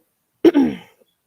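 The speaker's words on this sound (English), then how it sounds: "excuse me if I have to clear my throat by million times." A single close throat clearing: a short harsh rasp followed by a longer rough rumble that fades, with silence around it.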